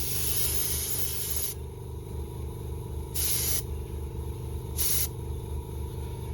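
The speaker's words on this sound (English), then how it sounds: "This is if you're using the dual action airbrush, this is full trigger." A dual-action airbrush sprays Alclad II chrome at full trigger, giving a loud, steady hiss of air and paint that pauses briefly a couple of times. The sound is close up and there is no talk.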